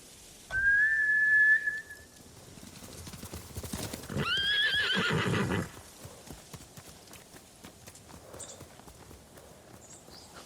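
Horses in the Ghost of Tsushima video game give a loud, close neigh near the start and a second neigh midway, with clattering hooves and whistling wind running faintly underneath.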